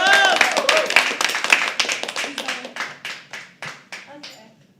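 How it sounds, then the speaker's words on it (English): An audience at a live poetry open mic bursts into clapping that fades gradually over a few seconds, with voices talking over the applause. "Can we please start clapping for Kimberly?"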